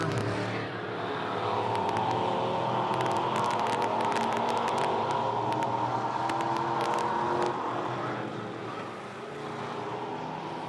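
Race cars in a heat race at a dirt speedway in north central Arkansas, engines roaring loud and sustained as the pack runs past, rising and falling with brief sharp crackles, no voices.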